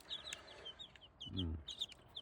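A low, short cluck from a nearby rooster amid chirping birds in the background, quiet outdoor setting.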